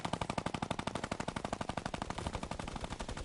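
Fast, steady bursts of automatic gunfire in the video game Fortnite, a dense rhythmic rattle of shots that runs for the whole stretch with no talk.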